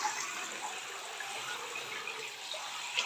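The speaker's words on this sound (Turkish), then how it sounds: "Hadi üstünüze de su dökün birazcık." Water pours steadily in a bathtub as two children play with toys to cool off in warm weather, a continuous close splashing hiss with no talk.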